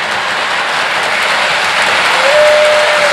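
A LionChief model steam train set runs on its track, a loud steady rumbling roar with continuous mechanical texture and a faint rising tone near the end.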